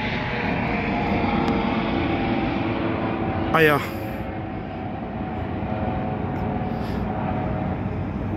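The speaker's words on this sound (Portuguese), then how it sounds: "Olha o helicóptero, passar aquele helicóptero" A helicopter passes over São Paulo near Rua da Consolação, giving a steady distant drone beneath city background noise, while someone talks briefly in Portuguese.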